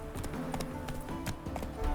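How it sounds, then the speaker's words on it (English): Horse hooves clip-clop in The Witcher 3, a steady close trotting rhythm over a low rumbling game soundscape. "Look at that horse barrel ahead!"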